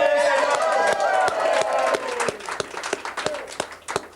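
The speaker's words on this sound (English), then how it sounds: "A round of applause." A radio show's studio audience applauds in a short burst that starts full and thins into scattered individual claps over a few seconds.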